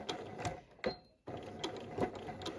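A home sewing machine runs short bursts of blanket stitches while appliquéing fabric hearts with interfacing, its needle pattering rhythmically close by, pausing briefly in the middle before starting again.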